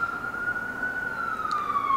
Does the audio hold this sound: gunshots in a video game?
no